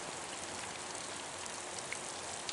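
Steady rain falls outdoors on a white-sky morning, a soft, even hiss of drops with a couple of faint individual taps, no voices.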